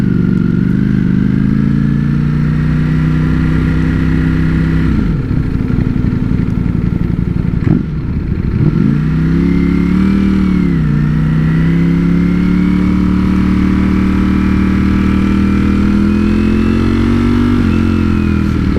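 A Ducati Streetfighter V4S motorcycle engine drones steadily while riding, loud and close, with the pitch rising and falling as the rider shifts and accelerates, and no voices.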